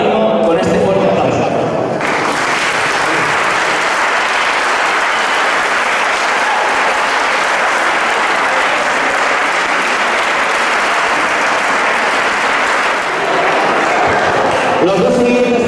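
Loud, sustained applause from a crowd at an award ceremony, a thick wall of clapping that rises after a brief voice at the start and fades near the end.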